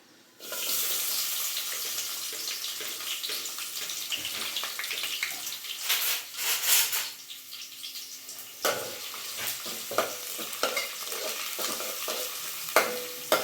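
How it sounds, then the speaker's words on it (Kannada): Onion and green chillies frying in hot oil, a loud continuous hiss broken by scraping stirs and a few sharp clatters, close up with no voices. "ಈರುಳ್ಳಿ ಫ್ರೈ ಆಗ್ತಾ ಇರುವಾಗಲೇ ನಾನು ಆಲೂಗಡ್ಡೆನೂ ಹಾಕೊತಿದ್ದೀನಿ"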